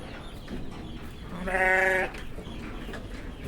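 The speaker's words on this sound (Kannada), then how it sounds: "ಅದರಲ್ಲಿ ಕೆಂಗೂರಿ ಕುರಿಗಳೇ ಒಂದು ನಾನ್ನೂರು ಕುರಿಗಳಾದರೆ ಇದ್ದಾವೆ ನೋಡಿ" A Kenguri sheep gives one clear, loud bleat from a flock of several hundred, heard over a soft, busy background murmur of the flock.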